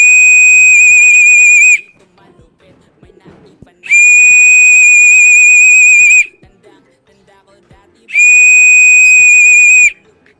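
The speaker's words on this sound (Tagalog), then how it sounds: "Asaan ang pito?" A referee-style whistle blown in three long, loud, steady blasts about two seconds each, with quiet gaps of faint background noise and scattered clicks between them, at a Filipino pigeon racing loft as racing pigeons come in.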